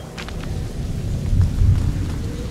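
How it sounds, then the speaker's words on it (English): Rain and thunder in the video game A Plague Tale: Innocence, with a dense hiss of falling rain and deep rolling thunder that swells twice near the middle, loud and close with no voices. "Lucas, Hugo, stay out of the rain."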